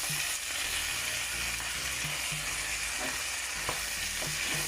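Cabbage frying on high heat, a dense, steady sizzle with light periodic stirring taps, close and continuous with no voices.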